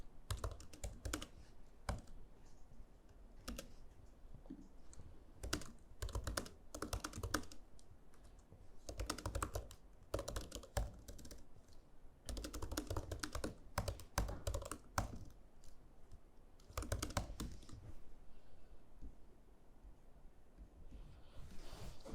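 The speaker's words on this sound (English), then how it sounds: "I just typed a message here" Steady typing on a computer keyboard at a desk, quick bursts of key clicks with brief pauses, close and fairly quiet, no talking.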